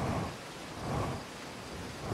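Rain falls and thunder rumbles low in a stormy scene from the video game Outer Wilds, a brief steady wash with a swelling roll near the start and middle, faint and distant.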